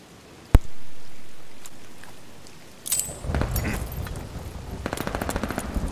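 Automatic gunfire rattles in a video game firefight over a contested hard point: one sharp shot, then a pause, then rapid bursts from about midway that continue as dense, repeated cracks to the end.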